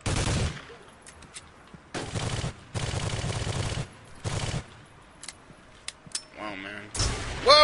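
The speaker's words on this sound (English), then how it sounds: "Stop shooting at me, man." Gunfire in the video game Soldier of Fortune II, several loud bursts of rapid automatic fire separated by short pauses, with scattered single shots and brief sounds between.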